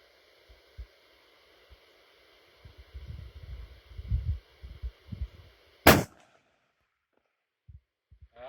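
A single sharp rifle shot from a Kimber Hunter Pro cracks out at a skeet target, loud and close, after muffled low thumps of wind or handling, with faint low rumbles afterward.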